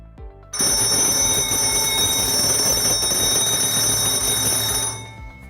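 A fire alarm set off by a triggered smoke detector blares a loud, continuous electronic ringing tone after a brief quieter lead-in, holding steady for several seconds before cutting off near the end, with no talk.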